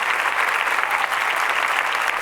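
An audience claps steadily for a woman named Gabby, close, dense applause running without pause and faint cheering mixed in.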